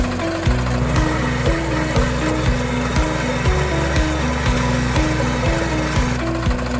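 A 4.0kW gasoline micro tiller engine runs steadily and loudly, with a rhythmic chugging pulse and a high-frequency whine throughout, with no voices.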